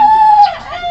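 A rooster crows once, loud and close, a short sustained call that breaks off into a rougher falling tail, heard on its own.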